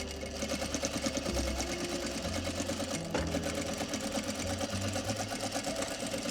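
A sewing machine stitches a coin pocket onto a pocket facing, a fast, steady mechanical chatter with a low motor hum, close and continuous throughout.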